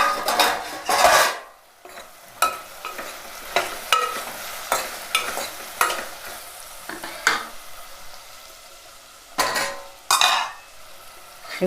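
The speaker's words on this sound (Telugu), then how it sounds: "ఇవి కొంచెం వేగాక మామిడికాయ ముక్కలు వేస్తాం" Mango pieces fry in a pot for a dal-style tamarind soup while a spoon stirs them, giving repeated scraping strokes and clanks against the metal over a light sizzle, close up and without speech.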